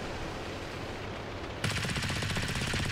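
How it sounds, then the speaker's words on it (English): Rapid automatic cannon fire from a Japanese A7M fighter in the World of Warplanes game, a quiet drone giving way to a loud, dense burst of fast rattling shots lasting over a second. "the 420mm cannons on the A7M, well, you saw there, they make very quick work of ground attack aircraft"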